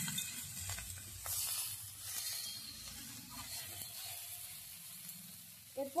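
Tomatoes and fried lentil dumplings stirred in a pan make a soft, quiet sizzle with uneven scraping and shuffling, ending in a couple of louder knocks.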